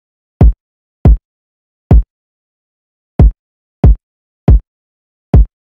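Seven isolated kick drum hits from an FL Studio trap beat, each a deep booming thump with fast decay, spaced irregularly with silence between, loud and alone.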